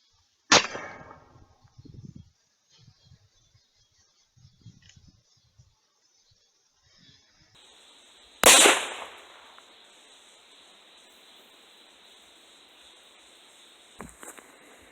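A Remington 870 shotgun firing managed-recoil buckshot into a bag of flour outdoors, one sharp loud blast midway followed by a ringing decay, with faint shuffling before it and a small knock near the end.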